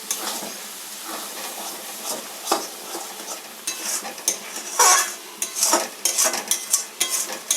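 Lote fish jhuri being stirred in a pan over high flame, a spatula scraping and clattering in irregular bursts over a continuous sizzle, close and fairly loud.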